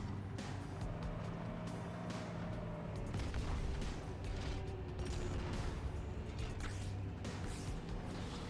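Warthog vehicle rumbling along in Halo 2 Anniversary on Xbox Series X, a steady low engine drone under dense battle noise and scattered distant gunfire, continuous throughout.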